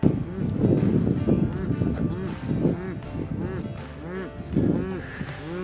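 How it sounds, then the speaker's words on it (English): Ranch cow bawling for her calf during calving season, with repeated deep, drawn-out moos rising and falling close by, several calls in a row over a low rural background. "So if you'll pay attention to how that cow is bawling, she's looking for her calf."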